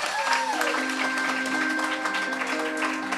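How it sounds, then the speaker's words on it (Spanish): A live audience claps for a storyteller named Calvin, steady applause over a sustained musical tone, moderately loud throughout. "Fuerte aplauso para Calvin."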